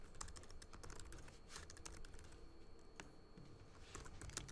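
Fingers type on a computer keyboard in a quiet, quick patter of soft key clicks, continuous and faint with no voices.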